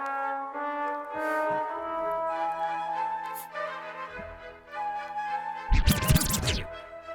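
Music with sustained tones plays while a record is scratched back and forth, ending in a loud burst of rapid scratching near the end.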